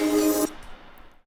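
Reverse snare effect in a pop drum arrangement: a bright, noisy tone blended with chord harmonics holds loud, then cuts off abruptly into a faint tail.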